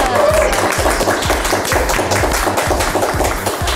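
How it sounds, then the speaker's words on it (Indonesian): A crowd applauds with lively clapping over rhythmic thumping music, loud and continuous for several seconds. "Dijudge dari tepuk tangan penonton ya."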